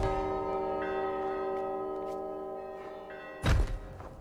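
Bells ringing in the video game Gris, sustained layered tones that hum and slowly fade, then a dull thud near the end.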